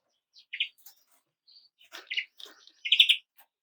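Caged greenfinches in a garage give short, scattered chirps and twittering calls, near and fairly soft, with quiet gaps between bursts.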